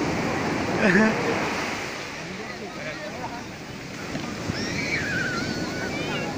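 Ocean surf rolls and breaks continuously on Puri beach under wind noise, with faint voices in the background.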